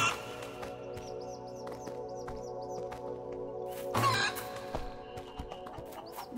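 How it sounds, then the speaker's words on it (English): Chicken clucking in the Fable II video game, a string of short repeated clucks at moderate distance over a steady ambient game backdrop, with a brief louder burst partway through. "Right, you silly chicken."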